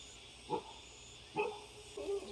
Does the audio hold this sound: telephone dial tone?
no